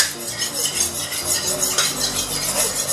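A cleaver is scraped back and forth across the edge of a ceramic plate to sharpen it, giving a repeated gritty rasp in steady strokes, close and clear, no talk.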